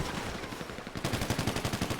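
Rapid gunfire in a competitive shooter match, a burst of dense firing then a quick rhythmic string of shots, loud and close with no talk.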